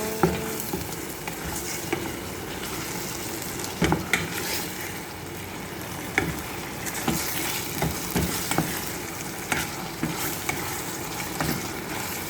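Ingredients sauté in a pan for tinulang manok, the Filipino chicken soup, producing a loud continuous sizzle with frequent scraping and knocking stir strokes throughout.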